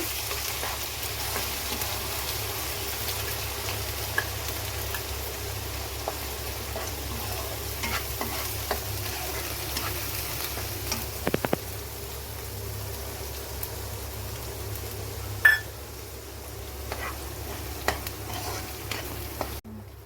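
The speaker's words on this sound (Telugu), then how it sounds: "అల్లం వెల్లుల్లి పేస్ట్ ఎర్రగా వచ్చేంత వరకు కూడా మనం వేపుకోవాలండి" Ginger garlic paste fries in oil left over from frying prawns, making a quiet, continuous sizzle with scattered light stirring clicks and one sharper knock near the end.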